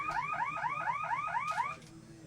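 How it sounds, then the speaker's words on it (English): A hockey game buzzer sounds at an amateur rink as a loud series of about seven quick rising electronic whoops in a steady rhythm, then cuts off. "And the buzzer."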